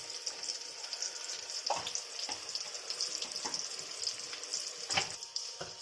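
Ginger and garlic paste fries in a pan for a chicken and bottle gourd curry, giving a steady close sizzle with several sharper scrapes and clatters of stirring at irregular intervals.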